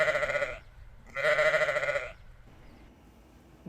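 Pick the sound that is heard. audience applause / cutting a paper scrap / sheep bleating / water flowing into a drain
sheep bleating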